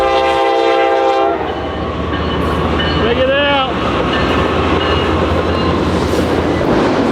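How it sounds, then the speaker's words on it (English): Trains rumble and clatter past a grain mill, steady and loud, with a horn sounding in the middle of the passage; someone speaks briefly over the rail noise. "Holy cow, 2 trains."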